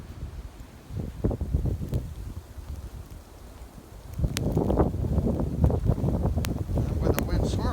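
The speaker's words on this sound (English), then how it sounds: "Where the wind swirls around the garage." Wind gusting and swirling around a garage during a heavy blizzard, a steady rushing roar with buffeting on the microphone that grows louder and denser in the second half.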